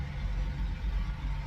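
Trucks roll past a truck stop parking area at night, a low steady engine rumble heard from inside a cab, fairly quiet and continuous.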